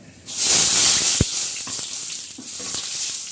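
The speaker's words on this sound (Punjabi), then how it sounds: "ਇਹ ਨਾ ਹਿੰਗ ਦਾ ਤੜਕਾ ਲੱਗਾ ਹੋਵੇ ਨਾ ਬਹੁਤ ਵਧੀਆ ਲੱਗਦਾ" Asafoetida tempering for kadhi crackles and hisses in hot oil, a loud, steady sizzle from start to finish with a few sharp pops and spatters close by.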